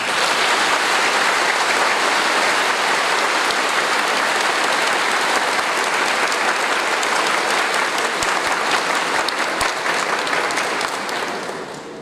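Strong, sustained applause from a large congregation at a religious profession ceremony for eight novices, dense and steady for the full stretch before tapering at the end.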